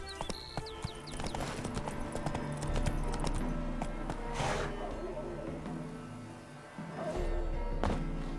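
Horse hooves clip-clopping steadily in The Witcher 3: Hearts of Stone, a continuous loud rhythmic gait with game ambience underneath throughout.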